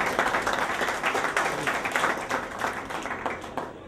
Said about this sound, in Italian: Io farei un applauso perché è un'iniziativa intuitiva